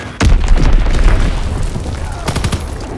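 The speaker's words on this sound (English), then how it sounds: "Enemy bomb incoming." Call of Duty: WWII battle with a loud, heavy bomb blast that rumbles on, followed by sharp gunshot cracks toward the end.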